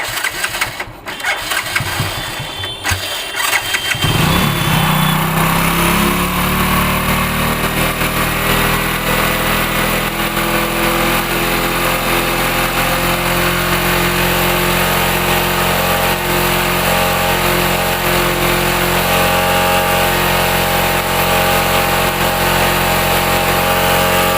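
Hero Honda Passion Pro motorcycle engine starts after a few seconds of rattling, then settles into a loud, steady, close idle that runs on unbroken with no talking.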